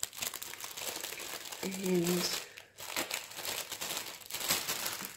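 A plastic bag holding a varnishing sponge crinkles and rustles in short bursts at close range, partly under a person talking.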